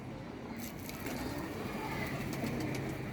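Pigeons at a pigeon club around feeding time make soft cooing and fluttering sounds under a steady bed of ambient noise, fairly close and continuous with no one talking.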